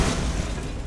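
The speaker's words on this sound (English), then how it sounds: "Explosion." An explosion in the Borderlands video game, a loud broadband boom that fills the opening moment and then decays into a rumbling tail over about a second.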